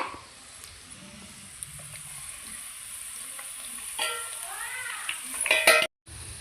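Onions frying in hot oil in a pan, cooked for a spiny-gourd pickle: a continuous, bright sizzle with occasional stirring scrapes and clinks, up close, which cuts out abruptly near the end.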